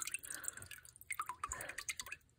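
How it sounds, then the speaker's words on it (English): A Northern red sea anemone shrinking and squirting out water, heard as a run of small, faint, close drips and trickles in an otherwise quiet setting. "As it shrinks down, water has to come out, so that's why it's spraying."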